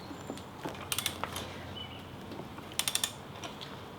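A wrench tightens a motorcycle wheel during a tire change, making quiet metallic ratcheting clicks in two short bursts of rapid ticks against a faint background, close and alone without talk.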